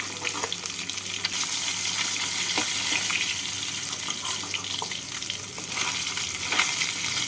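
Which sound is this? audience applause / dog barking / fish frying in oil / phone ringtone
fish frying in oil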